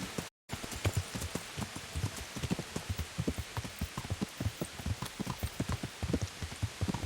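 Rain falls steadily in the medieval video game Kingdom Come: Deliverance, mixed with a regular clip-clop of horse hooves plodding along at a walking pace, no voices over it.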